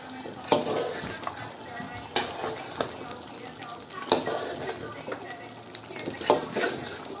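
Chili, salt and spices being stirred into lamb charsi karahi in a pan, with soft sizzling under repeated scraping strokes and a few sharp utensil knocks against the metal, close and moderately loud.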